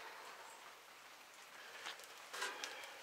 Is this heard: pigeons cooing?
no